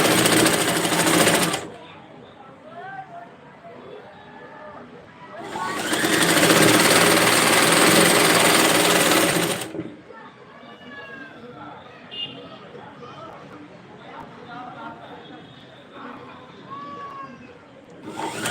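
A sewing machine stitches a dress in two loud, rapid whirring bursts, close by, with someone talking softly in the gaps between runs.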